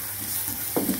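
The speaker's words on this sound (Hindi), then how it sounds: "गार्लिक और जिंजर जो चॉप किया हुआ था वो डालेंगे, और इसको सोते करेंगे।" Chopped garlic and ginger sauté in a hot pan with a soft continuous sizzle, broken by a brief stirring scrape near the end; no talking.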